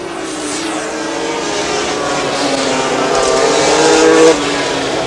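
A 500cc Grand Prix racing motorcycle ridden by Freddie Spencer at the 1983 Japanese GP screams through an S-curve, its high-pitched two-stroke engine loud and close, climbing steadily before cutting off sharply near the end.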